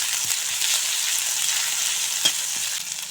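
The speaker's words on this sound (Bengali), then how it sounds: "আদা রসুন বাটা দিয়ে একটু নেড়ে ভেজে নেব" Chopped onion and ginger-garlic paste fry in hot oil in a pan for a tomato and potato curry, making a loud, steady hiss with one or two soft knocks.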